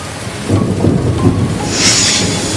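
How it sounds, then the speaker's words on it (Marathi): A pre-monsoon thunderstorm in Palghar district, Maharashtra, with heavy rain: deep rolling thunder rumbles close and loud over a steady downpour, and the rain hiss swells near the end. "विजांच्या कडकडाटासह मान्सूनपूर्व पावसानं हजेरी लावली"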